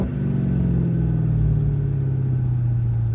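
A Ford Mustang's engine roars with a deep, steady rumble as it drives off, a loud close-up drone that rises slightly in pitch as it pulls away.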